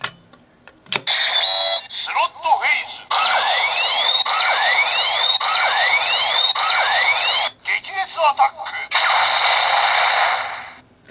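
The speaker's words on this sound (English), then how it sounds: "The standby noise you heard is from the Ganbaride machine." Ganbaride slot machine idling in standby while waiting for its reels to be activated, giving off repeated electronic chirps and sweeping tones in a steady looping pattern with brief breaks, close and fairly loud, no talk.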